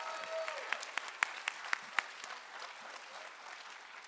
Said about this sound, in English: so y'all just need to give us a round of applause.